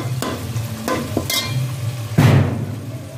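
A spoon stirs potato curry in a frying pan, making several scraping strokes over a steady low sizzle, close and clear with no talking.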